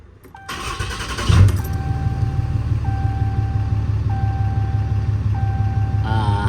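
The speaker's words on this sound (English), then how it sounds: "we're gonna start the truck one more time." A 2016 Ram 2500 with a 6.7 Cummins diesel cranks briefly and fires, settling into a steady low idle while a dashboard chime repeats at regular intervals.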